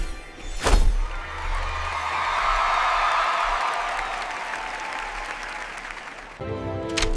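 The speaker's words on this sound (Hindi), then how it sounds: "लोगों ने तालियां बजाई।" A crowd applauds steadily for several seconds in a royal fairy-tale setting after an archery shot, a dense wash of clapping that swells and then fades, with a sharp thump near the start.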